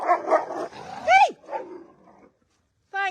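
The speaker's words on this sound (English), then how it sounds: "Constant dog wrestling." Dogs bark, yip and growl close by as they wrestle on a porch, with a whining yelp and a short sharp bark at the end. A person calls out once in between.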